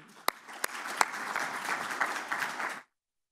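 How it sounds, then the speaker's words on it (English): An audience at a Make It 2017 talk event breaks into applause, opening with a few sharp individual claps before a dense wash of clapping that stops abruptly after about three seconds. "So please give her a round of applause, Nikki."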